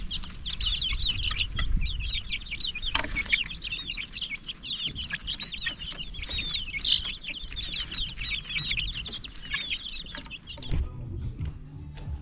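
Chickens on a homestead farm cluck and chatter continuously near the coop after being let out, a busy overlapping flock with occasional louder squawks and thumps, fading out at the end.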